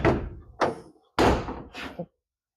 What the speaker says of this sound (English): And then we'll open up the door